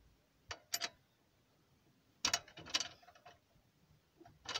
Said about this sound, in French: on dévisse.